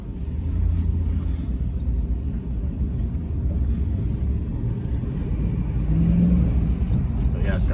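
A 2006 Ram 1500 Mega Cab pickup, just repaired after an exhaust manifold fault melted wiring, accelerates with a steady low engine rumble that swells slightly near the end, heard from inside the cab.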